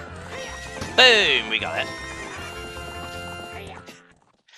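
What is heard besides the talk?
horse Epona neighing in video game Zelda Ocarina of Time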